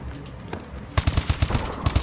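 Rapid automatic gunfire in the video game Call of Duty Advanced Warfare: a burst of about a dozen punchy shots in quick rhythm, close and loud, following a second of quieter game ambience.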